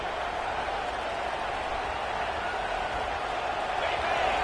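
A home crowd at an American football game roars as the defense tries to get off the field on third down. The broad, sustained stadium noise holds steady and rises slightly toward the end.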